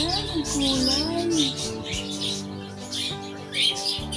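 Cockatiel chirping nearby, a quick run of short whistled tweets and trills, fairly faint and mixed with a person talking softly in the background.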